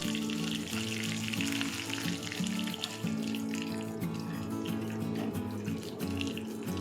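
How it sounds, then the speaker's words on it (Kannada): Mustard seeds and curry leaves crackle and sizzle in hot oil for a sambar tempering, a dense close frying hiss with scattered pops running steadily throughout. "ಎಣ್ಣೆ ಹಾಕಿದ್ದೀನಿ ಅದು ಬಿಸಿ ಆಗ್ತಾ ಇರೋಂಗೆ ಸಾಸಿವೆ ಕೂಡ ಹಾಕ್ಕೊಳ್ತಾ ಇದ್ದೀನಿ"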